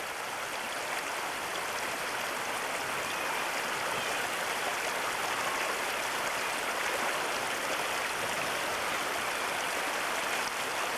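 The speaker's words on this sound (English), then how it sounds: "there's a steep mountain stream way up here where they're heading for" Steep mountain stream in Alaska rushing beneath a highway, a constant loud broadband water roar with no breaks, close by and steady throughout.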